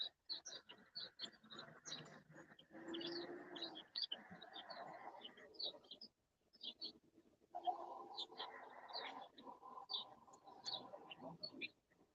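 Pigeons cooing in a loft, low soft coos repeating in two long stretches among faint chirps and light rustling, quiet and close.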